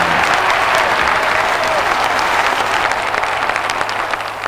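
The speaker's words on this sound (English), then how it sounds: "give them another round of applause, if you will." Sustained, dense clapping from a crowd fills the whole stretch, loud and steady without pause.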